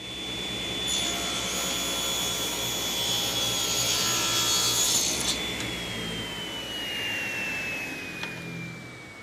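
A table saw rips a thin 1/8 inch strip of wood with a steady, loud whine and rough cutting noise up close, and the blade's pitch drops gradually as the cut finishes and the saw winds down.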